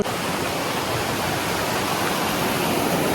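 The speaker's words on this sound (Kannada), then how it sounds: "ಫುಲ್ ನೀರಿನ ಕೆಳಗೆ ನೀರು ಹೊಂಟೈತಿ, ಮ್ಯಾಲೆ ಹಿಂಗೆ ವುಡನ್ ಸ್ಟೆಪ್ಸ್ ಐತಿ." Water rushes beneath wooden steps at a scenic spot in Croatia, a loud, steady, broadband roar with no voices.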